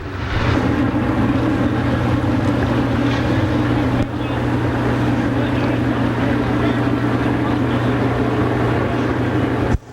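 Race cars thunder around the oval at Pennsylvania Motor Speedway, a loud sustained engine roar coming off the fourth turn, steady and dense with a brief dip midway and commentary beneath.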